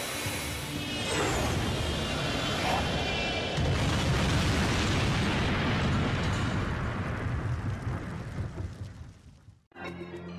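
Japan Airlines Flight 123 crashing: a huge, sustained roaring rumble and blast that fills the whole stretch, fading and cutting out abruptly near the end before a lower rumble resumes, with no voices.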